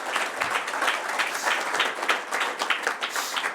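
An audience claps for the moderator at the close of a political debate on the future of young Europeans, with steady, moderately loud applause from many hands sustained throughout.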